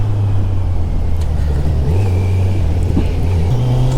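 A motorbike held in second or third gear climbing a mountain road on the way to Sach Pass in India, a close, steady engine drone that rises and falls slightly in pitch with no talk over it.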